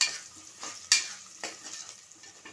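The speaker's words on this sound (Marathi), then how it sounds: "पावटी ओला नारळ घालायचं आहे आणि याप्रमाणे तुकडे करून घालायचे आणि परतवून घ्यायचं आहे" Fresh coconut pieces being sautéed with onions in a pan, a soft sizzle broken by several quick spatula stirs and scrapes in an uneven rhythm, close by.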